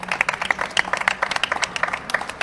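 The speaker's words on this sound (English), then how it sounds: "A round of applause." An audience applauds after a talk at an EU Industry Days conference session, the clapping moderately close, brisk and uneven, with individual claps distinct.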